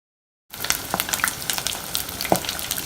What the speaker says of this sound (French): Donc voilà, on va commencer à griller.